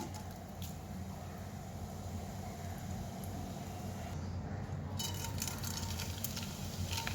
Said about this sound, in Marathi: आता हे जे कांद्या पोह्याचे पोहे जाड, हे आपण तळून घेऊ यामध्ये थोडे थोडे करून.